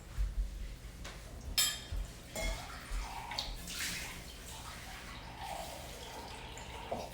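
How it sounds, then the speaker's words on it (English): Small amounts of water are poured from a tap or container into a protein bar mixture in a home kitchen: a few short splashing pours and drips, close by, with quiet gaps between them. "keep putting little bits of water in"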